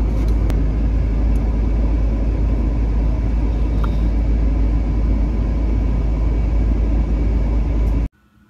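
Steady, loud low road rumble and engine drone from inside a moving car, continuous for about eight seconds before cutting off abruptly, with no talk.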